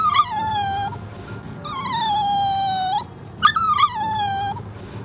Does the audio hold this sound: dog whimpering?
yes